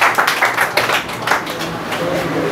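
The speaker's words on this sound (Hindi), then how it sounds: "देखो ताली बजाना अच्छी बात है" Students clapping in a classroom: a burst of several loud, close claps early on that thins out into scattered lighter taps.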